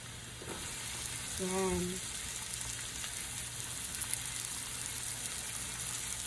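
Sweet onion hits a pan after the garlic and sizzles with a continuous frying hiss. A brief spoken word comes early, and a louder burst of sizzle follows the addition.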